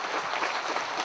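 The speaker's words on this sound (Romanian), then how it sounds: "Igor Cuciuc a fost întâmpinat de public cu mare bucurie și multe aplauze." An audience at a concert in Soroca claps warmly to welcome a singer, producing a brief, dense patter of steady applause.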